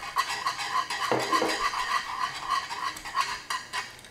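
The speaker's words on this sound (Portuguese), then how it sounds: "E agora sempre a mexer, que é para não torrar" A spoon scrapes and stirs passion fruit curd with butter in a pan on the stove, a continuous close swishing and scraping with soft metallic contacts, steady throughout and without speech.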